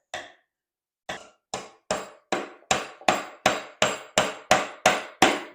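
A small hammer drives nails into a kids' hand-tool woodworking project, a dozen sharp ringing blows that start spaced apart and then quicken into a steady rhythm, close and clear.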